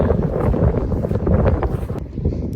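Wind buffets the microphone on a mountain trail in the Sierras, a loud, gusty low rumble that fills the whole moment with no talking.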